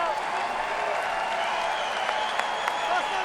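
Crowd noise stirs in an arena during a freestyle wrestling bout, a steady distant murmur with scattered claps and a few sharper peaks, under a commentator's voice.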